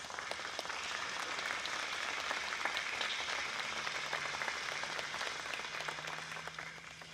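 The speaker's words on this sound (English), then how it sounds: "Please give them a round of applause." An audience honoring Fort Worth firefighters claps in steady, sustained applause, a dense patter of many hands at moderate volume that tapers slightly at the end.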